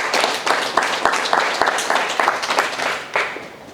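Audience clapping at a women entrepreneurs' excellence prize launch in Cameroon for the ambassador's representative, a lively mix of distinct individual claps over a fuller round of applause that swells and dips.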